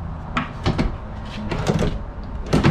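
Drawers in a Forest River Impression 270RK RV kitchen being opened and closed, giving a few separate wooden sliding thumps and knocks spaced out over a few seconds, fairly close and moderately loud.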